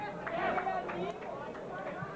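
Background crowd of Philadelphia Eagles fans at the 1982 NFL Draft, a steady murmur of chatter and voices filling the room at moderate level with no single standout sound.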